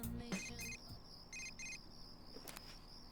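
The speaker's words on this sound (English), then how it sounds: "We received a text message." A text message alert chimes in Persona 4 Golden as a short burst of bright beeping tones that repeats once, faint, with a few soft clicks around it.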